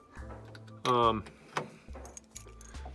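Car keys jangle and clink in a loud burst, followed by scattered lighter clinks and handling noises, with a voice speaking softly in places, inside a 1952 Ford Customline.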